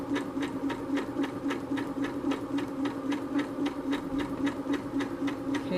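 A sewing machine stitches a pillow seam in a steady, quick, even rhythm of needle clicks over a low motor whir, close and moderately quiet, running alone throughout.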